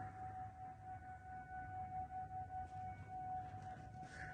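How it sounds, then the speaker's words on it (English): A Federated 2001 tornado siren sounds from far away during a tornado drill, a steady, faint wailing tone held throughout beneath an outdoor background hiss. "Because it sounded like to me a siren was playing over there in the distance."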